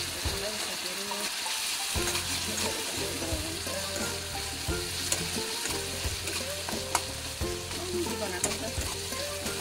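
Onion, turmeric and Kashmiri chili frying in a pan for wachippa, a steady close sizzle with stirring scrapes and clinks throughout, a brief bit of talk over it.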